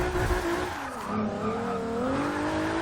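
A race car slides into a turn with oversteer, its tires squealing and skidding in a continuous, loud screech over the strained engine note, held in second gear, close and steady for about three seconds.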